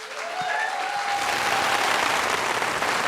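A steady roar of applause from an audience at a Lincolnshire songwriting event, dense and sustained throughout, with a faint whistle-like tone drifting through the first half.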